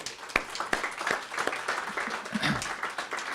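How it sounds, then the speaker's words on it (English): Audience clapping at a university event presenting student architecture work, a moderate, fairly sparse patter of hands with individual claps standing out, heard at some distance in a room. "a round of applause for this work"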